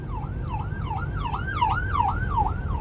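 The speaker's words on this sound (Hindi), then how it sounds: "ये एम्बुलेंस आ रही है" An ambulance siren wails in a fast, steady rising-and-falling cycle, loud and close, over the low rumble of slow traffic, with no one talking.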